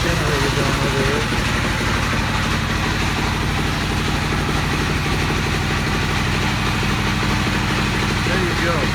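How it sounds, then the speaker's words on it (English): A generator drones steadily nearby as a loud, constant low engine rumble through the whole stretch, with a voice talking over it. "It's a bit noisy around this side. The generator going over here."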